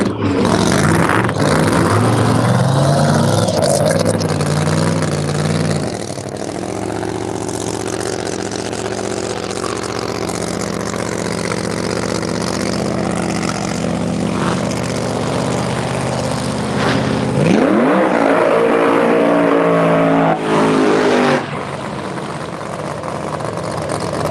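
ProMod drag race cars idle loudly at the start line, with a steady, rumbling engine drone that shifts pitch as the engines are revved and then settle, continuous and close throughout.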